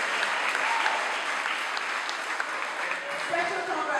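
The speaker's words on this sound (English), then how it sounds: "we want you to applaud the entire group" An audience at an inter-school singing competition applauds a group of student singers, giving steady, dense clapping throughout while a voice speaks faintly beneath it.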